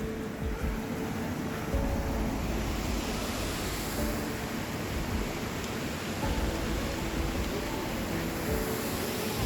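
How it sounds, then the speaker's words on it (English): Small waterfalls cascading down a stream on a trail at Talybont, Wales, a continuous close rushing roar of water, steady throughout with no talking. "there's all these little waterfalls all down here"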